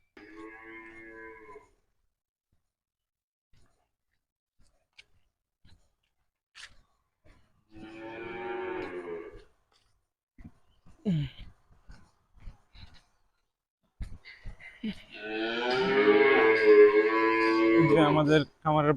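Cattle on a farm low and moo in a few separate bursts, the last one long and loud, with quiet gaps and faint scattered sounds between them.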